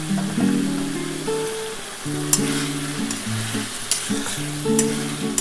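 Spice masala paste with freshly added tomatoes sautés in a pan for a capsicum, potato and egg curry. It gives a continuous crackling sizzle with occasional sharper spatters, under tuneful background music.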